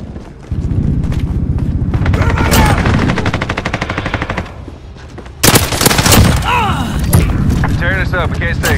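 Sustained rapid automatic gunfire in a first-person shooter video game, loud and close, with bursts continuing over several seconds and a sharp blast, while a voice speaks over the shooting.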